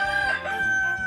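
A rooster crows as a sound effect in a Snapple ad, one loud, close, sustained cock-a-doodle-doo call heard alone.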